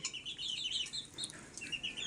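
Faint clucking and chirpy calls from a rooster and hens, a few soft bursts in quick succession, distant and quiet.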